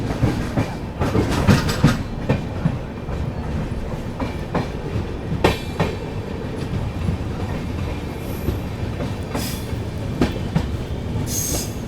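Vibhuti Express passenger train leaving Gyanpur Road, with steady loud rumble of wheels on rails and repeated clickety-clack rail-joint beats throughout, plus occasional higher metallic squeals.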